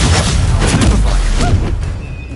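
A Depulso spell strikes in the Hogwarts Legacy game, giving a loud, booming blast of crashing impact that fills the whole moment before tailing off slightly.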